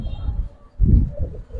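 Giribaz flying pigeons cooing up close, several low, throaty rolling coos in quick succession with a few soft pauses between them.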